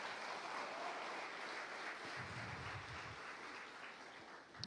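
A church congregation applauds during a Portuguese-language worship service, a steady dense wash of clapping that fills the room evenly, fairly quiet and distant, with no voices standing out.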